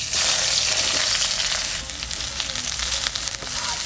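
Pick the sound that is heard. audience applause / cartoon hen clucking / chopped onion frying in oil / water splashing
chopped onion frying in oil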